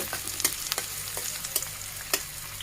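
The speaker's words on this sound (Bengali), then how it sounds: "এখন আমি কিছু পরিমাণে পেঁয়াজ কুচি দিয়ে দেব। পেঁয়াজটা একটু নরম করে ভেজে নেব।" Chopped onion frying in hot oil in a wok, a steady crackling sizzle with sharper pops and stirring scrapes scattered through, close and continuous with no talking.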